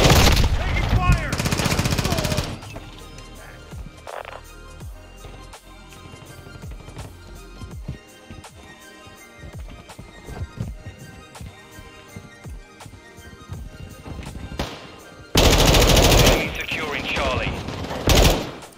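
Automatic gunfire in a Call of Duty Modern Warfare 2 multiplayer match, with loud rapid bursts at the start and near the end and scattered sharp shots and mechanical clicks in between.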